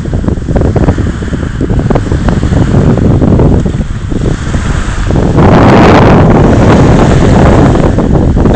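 Waves wash onto a narrow beach on Bo Phut bay, Koh Samui, with a steady roar, heavily buffeted by wind noise on the microphone, surging louder toward the end.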